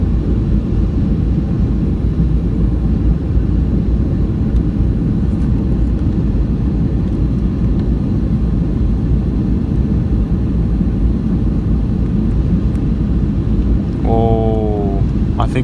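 An Icelandair Boeing 757-223 with winglets arriving at Keflavik fills the cabin with a loud, constant engine and airflow roar as flaps extend and reverse thrust builds, and a voice speaks briefly near the end.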